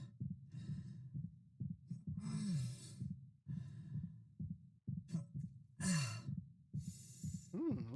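Isaac, the injured and exhausted engineer in the Dead Space remake, lets out repeated close, strained breaths, sighs and pained gasps in an irregular rhythm, with short pauses between the bursts.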